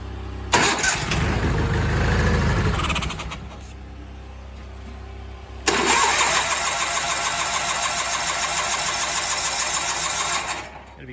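A Sears Suburban garden tractor engine cranks on carb cleaner at half choke: a loud burst of starter cranking that stops, a pause, then a second long rhythmic cranking run, close by.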